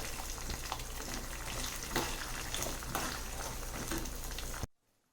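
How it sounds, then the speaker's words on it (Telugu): Peanuts fry in hot oil with chillies, a close, continuous crackling sizzle that stays even throughout before cutting off abruptly at the end. "ట్రిక్ అంతా పల్లి ఫ్రై చేసుకోవడంలోనే ఉందండి"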